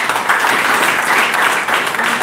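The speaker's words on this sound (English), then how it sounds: "Let's give both teams a big round of applause." Audience applause after a school Law Day debate between two teams, dense steady clapping filling the hall for the whole stretch without pause or talk.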